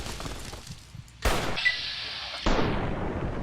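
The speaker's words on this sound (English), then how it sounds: "Stop shooting me!" Gunfire in the video game Fallout: New Vegas, a sharp loud shot burst followed by a sustained rattling blast that cuts off and then resumes, close and dense.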